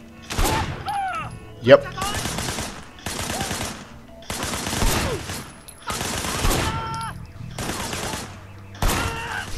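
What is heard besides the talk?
gunfire in video game Sleeping Dogs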